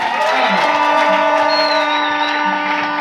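A Brazzaville church congregation cheers and acclaims during worship, a loud mass of shouting voices with music holding sustained tones underneath, continuous for the whole moment.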